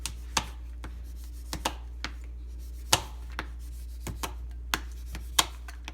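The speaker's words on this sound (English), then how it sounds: "cut the chocolate into small chunks" Knife chopping a bar of chocolate into small chunks on a chopping board, sharp irregular knocks and crunches spaced apart over a low steady hum, close and clear.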